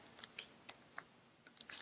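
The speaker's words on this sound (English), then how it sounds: "I'm typing here." Faint, scattered clicks of keys being tapped on a computer keyboard, irregular and quiet, ending in a quick cluster of taps.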